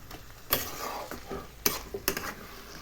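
Kochu shaak cooked with hilsa fish head and garlic being stirred in a pan, a quiet sizzle broken by a few sharp scrapes and knocks of a spatula against the metal.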